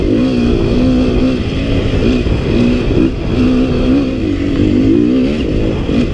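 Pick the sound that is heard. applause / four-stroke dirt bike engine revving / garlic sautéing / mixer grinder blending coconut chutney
four-stroke dirt bike engine revving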